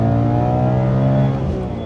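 A BMW E92 M3's engine revs hard from inside the car, a loud, strongly harmonic tone holding high and steady before easing slightly at the end.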